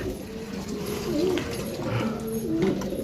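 Pigeons coo close by in low, rolling calls, two distinct coos standing out over a busy background with faint voices.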